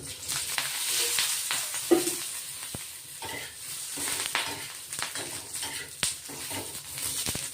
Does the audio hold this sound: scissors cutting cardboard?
no